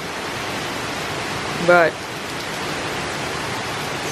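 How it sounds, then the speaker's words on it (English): Steady heavy rain in Florida, a constant dense hiss filling the scene at close range, with a brief spoken word rising above it for a moment. "it's fairly typical rain so far for Florida"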